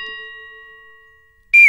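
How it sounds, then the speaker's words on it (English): A doorbell chime in a house at Christmas: one sustained ringing tone slowly decaying, then a sudden loud new strike right at the end. "That's the doorbell again."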